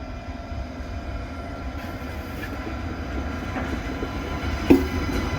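A train clatters through Quimper station, a steady, moderately distant rolling rumble with faint rail clicks and one sharper knock near the end, without talk.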